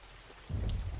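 Rain patters steadily as a sound effect, and a low rumble of thunder swells in partway through, close and heavy beneath the falling rain.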